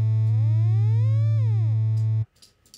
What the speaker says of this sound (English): For the sync is a square wave and for the ring is a sine wave.